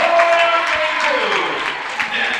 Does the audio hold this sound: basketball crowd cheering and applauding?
yes